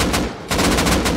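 Gunfire in the video game Rust, with loud, rapid bursts of shots that briefly stop and then resume as a dense volley.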